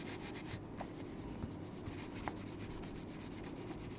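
Folded paper being rubbed flat to crease it for a handmade craft gift, a faint, steady scraping rub with a few soft taps, quiet and close, with one brief spoken word.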